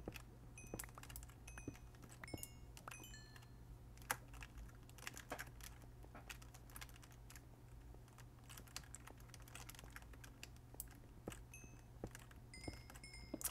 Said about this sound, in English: I could hear the keys clicking